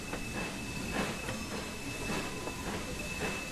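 A steam locomotive on the West Somerset Railway works harder up an incline with the regulator opened further, giving a steady, close rumble marked by rhythmic exhaust beats and rolling rail noise, with no talking.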